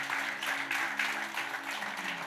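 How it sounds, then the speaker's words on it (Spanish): A church congregation applauds for the Lord, a steady wash of clapping over a low sustained hum, fairly even in level throughout with no speech on top. "déle un aplauso al Señor"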